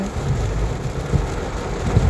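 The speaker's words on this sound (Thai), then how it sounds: "ตอนนี้ก็ยังติดฝนอยู่นะคะ" Steady rain pours outside a Lidl supermarket while people shelter from it, a dense continuous wash with low rumbling underneath, close and fairly loud with no voices.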